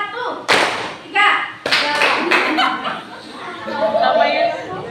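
A classroom of students claps in a patterned rhythm of short grouped bursts and single claps, separated by pauses and mixed with chuckles and a teacher's voice.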